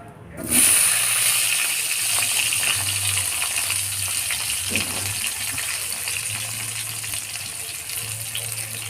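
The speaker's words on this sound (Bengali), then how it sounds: "এরপরে আলুগুলো আমরা ভেজে নেব।" Potatoes frying in oil in a pan, a loud, steady sizzle that starts abruptly and hisses continuously up close, with a faint low hum underneath.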